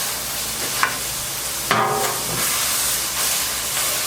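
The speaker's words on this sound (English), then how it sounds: "I've got 2 pounds of hamburger in here, and we're going to go ahead and start getting this browned up" Two pounds of hamburger meat browns in a pot, giving a steady moderate sizzle and hiss with a couple of brief louder stirring scrapes or spatters, no talking.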